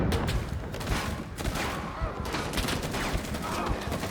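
Gunfire in the video game Rising Storm 2, a dense ongoing battle with many overlapping shots at middle distance, steady and continuous throughout.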